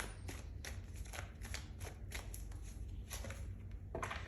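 Tarot cards are riffled and shuffled in repeated quick bursts of crisp flutter, close and soft, with no voices.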